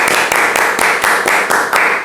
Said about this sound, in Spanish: y también un aplauso para nuestro compañero Juan Pablo